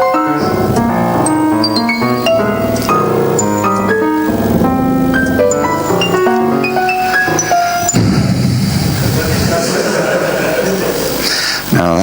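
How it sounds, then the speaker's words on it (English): Simple MIDI-generated computer music plays short, plain electronic bloop notes in a quick stepping melody. The notes give way to a noisier, blurred texture for the last few seconds. "it's very easy to make bloops that sound like this"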